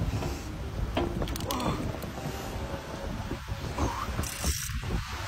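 Fishing reel cranked steadily while fighting a large catch, a continuous close mechanical whirring and clicking over outdoor background noise, with a few brief voice sounds.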